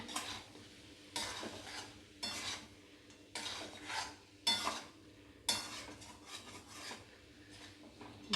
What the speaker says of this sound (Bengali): ভালো করে নাড়িয়ে নিয়ে মিশিয়ে নিয়ে